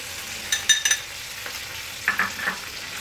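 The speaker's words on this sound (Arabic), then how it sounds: "صافي حتى هي البصله كنخليوها كتشحر مع هاد التوابل واللحم كما شفتوا" Onion sizzles in a pan with spices and beef for a fennel tagine, a soft steady frying hiss broken by a few scraping stirs, with no one talking.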